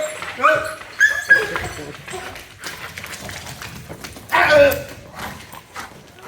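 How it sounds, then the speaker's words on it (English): A police dog barks and whimpers in sharp bursts close by during an arrest, with people shouting commands over the noise. "I will release the dog. Sir, dog will bite."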